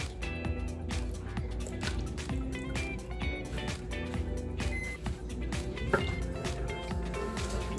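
Heavy whipping cream being poured into a cooking pot, a soft continuous liquid trickle and drip with small wet splashes under a steady low hum, close and moderately quiet throughout.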